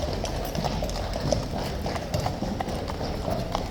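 Steady clip-clop of horse hooves on a hard surface, a continuous brisk rhythm close by, with faint background bustle.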